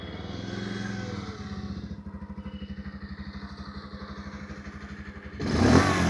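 Old Bajaj Pulsar 150 motorcycle idling with an even, close putter, with a louder burst of engine noise near the end.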